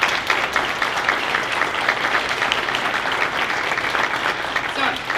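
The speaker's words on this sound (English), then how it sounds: "give our culinary students a big round of applause" Sustained applause for culinary students at a winter awards ceremony, a dense, steady clapping from a sizable audience that holds at an even loudness throughout.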